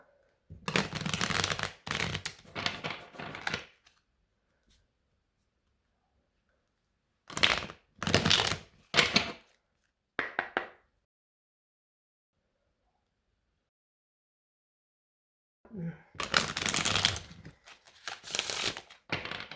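Tarot cards handled and shuffled in three separate bursts of crisp riffling and flicking, close and fairly loud, with silent pauses between them.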